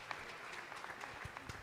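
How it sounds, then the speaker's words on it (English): An audience at a West African ministry training centre event claps briefly, a faint, even patter of applause lasting under two seconds. "Please let's keep clapping for her."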